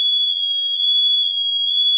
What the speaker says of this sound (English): that's the vape. That's a good alarm system.